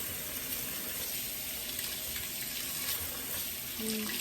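Tap water runs steadily into a sink to wash jasmine rice, a continuous moderate gush close to the microphone, with no talking.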